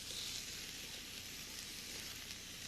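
Sliced short rib beef sizzles in a pan, a steady, soft frying hiss that continues evenly with no talk.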